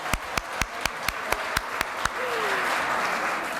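An audience at a community event begins with about ten slow, evenly spaced claps, then breaks into dense, sustained applause that fills the room.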